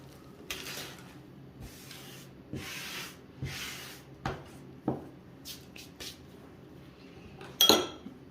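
Foil peeled off a sponge cake baking tin: soft crinkling and rubbing in short bursts, with a few light metallic taps and a sharper rustle near the end, close and quiet, no talking.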